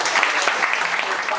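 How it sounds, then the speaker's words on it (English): Brief burst of audience applause for a presenter, dense clapping that holds steady for a moment, with a voice faintly underneath. "Let's hear a big applause to Tammy Goulet."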